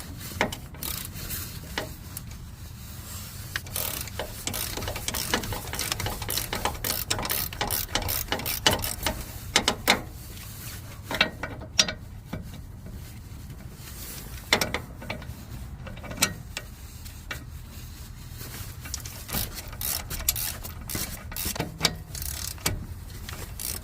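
Steady mechanical working noise, close and continuous, with ratchet-like clicks and rubbing, while the hub assembly bolts are removed from a Nissan Frontier front wheel; no talking.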